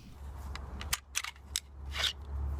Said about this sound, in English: we're going to separate our slide from the lower hand grip